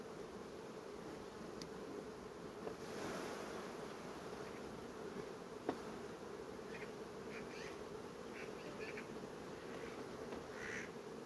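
Honey bees buzz in a continuous, even drone around an open hive frame of a struggling nucleus colony, close and steady throughout with a few faint clicks.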